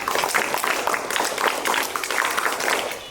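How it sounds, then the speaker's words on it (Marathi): Children in a classroom clap together in a rapid, fairly loud burst of applause that keeps going throughout with no pause. "चला टाळ्या वाजवा"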